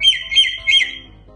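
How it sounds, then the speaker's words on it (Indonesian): Bird squawks three times in quick succession, loud and close, then stops, leaving a faint background hum. "Itu burung kah?"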